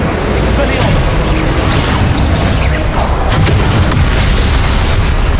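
Continuous roaring fiery blasts from a Confringo explosion spell in Hogwarts Legacy, dense and loud throughout with repeated booming bursts, while a voice talks over the combat.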